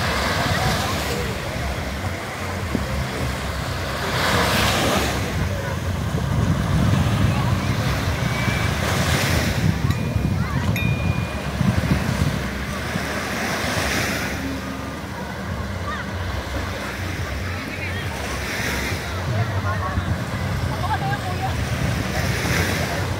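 Surf rolling onto the shore at Laiya beach resort in Batangas, a steady roar of breaking waves with wind buffeting the microphone and distant voices of bathers mixed in throughout.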